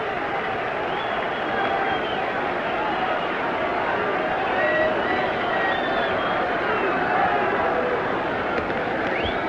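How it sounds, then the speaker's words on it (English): A Detroit Tigers home crowd at a vintage baseball game against the Red Sox chants "Roof, Roof" for batter Rooftop Thompson, a loud, steady stadium roar heard over an old radio broadcast. "with the crowd chanting "Roof, Roof" as he steps up to the plate"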